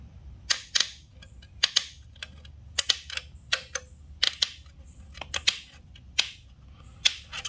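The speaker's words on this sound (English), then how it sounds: "So I start kind of rough just with a pair of tin snips." Tin snips cut a metal fan blade on a 1966 Ford Bronco, giving a series of sharp, close metallic snips and clicks in an irregular rhythm over a quiet background with no talking.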